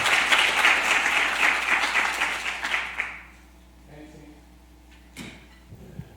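An audience at Yale FES claps steadily to welcome a speaker. The dense applause lasts about three seconds, then fades to a quiet room with a few faint knocks and shuffles.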